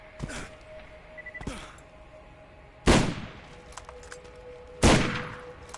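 Sniper rifle fire in the video game Borderlands, with four sharp shots spread across the span. The last two are loudest and leave ringing tails, while game noise runs underneath.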